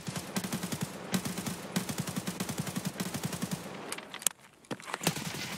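Rapid automatic gunfire in a video game, long bursts of fast even shots, loud and close, broken by a brief pause and a few more shots.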